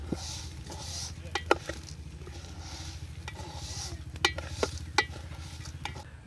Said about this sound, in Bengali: ভালো করে আমরা এটাকে ভেজে নেব।